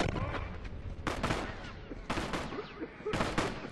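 Gunfire in The Last of Us multiplayer: three short bursts of rapid shots about a second apart, fairly quiet and somewhat distant over a constant game background.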